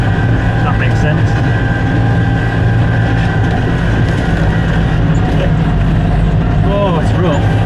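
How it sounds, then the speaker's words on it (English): A tractor mows hay high in a rough field: a loud, steady low engine drone runs without a break, with faint rattles and squeaks on top and a voice talking over it. "it's mowing very well actually"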